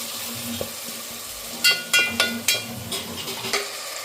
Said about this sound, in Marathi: टोमॅटो असं छान परतून घ्यायचं छान परतून घ्यायचं आहे थोडं मीठ टाकून सॉफ्ट व्हायला ठेवायचं